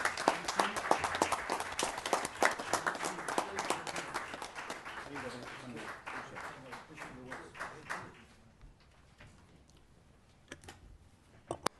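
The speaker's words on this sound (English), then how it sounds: "A round of applause, please," An audience applauds the governor at a California Latino Legislative Caucus hearing on immigration reform, with dense, crisp clapping that thins to scattered claps after about eight seconds and quiet talk underneath.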